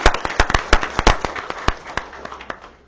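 Scattered applause from a small audience at a board meeting: a dozen or so sharp, distinct claps close together at first, then thinning out and fading.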